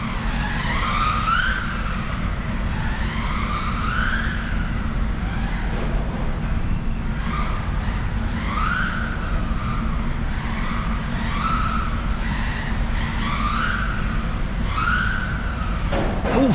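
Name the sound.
1/16 brushless RC car racing fast on indoor track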